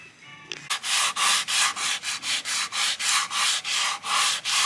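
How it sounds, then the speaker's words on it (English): A hand sanding block rubs back and forth along the edges of a wooden door board, giving about fourteen steady, evenly paced strokes that sound close and clear with no talk. "So let me go get my sandpaper block and relieve those edges."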